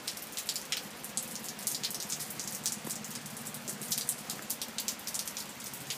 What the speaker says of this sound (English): I'm just kind of sitting out here on the back porch, listening to the rain.